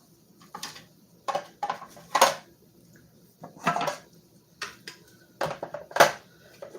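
Knife chopping onions on a cutting board, a series of distinct, uneven thunks and taps in short clusters, close and clear with no talking.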